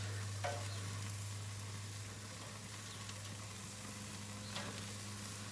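Sausages sizzle on a gas grill with burners on low and medium low, a steady soft hiss running alone throughout, with a couple of faint pops and scrapes near the start and end.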